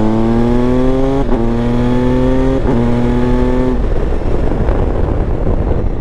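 Three-cylinder engine of an MV Agusta Enduro Veloce 950 motorcycle revs loudly and steadily in low gear at low rpm with a slight judder, pitch climbing in steps between gear changes, then easing into a rougher, broader drone.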